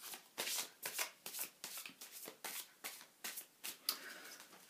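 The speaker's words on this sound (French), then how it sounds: "Donc, je remélange et puis je vais faire la coupe." A deck of tarot cards is shuffled by hand in a series of quick, crisp riffling bursts, about a dozen in a loose rhythm, close and fairly quiet, with no talk.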